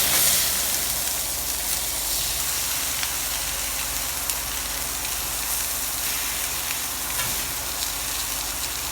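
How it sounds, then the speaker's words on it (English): Pork chop on a grill sizzles and crackles in a steady, loud frying hiss with scattered pops and spits throughout, no voice over it. "So now we're gonna go ahead and turn our pork chop again."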